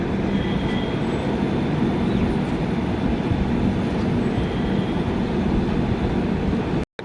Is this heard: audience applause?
no